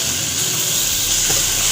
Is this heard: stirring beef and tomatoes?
yes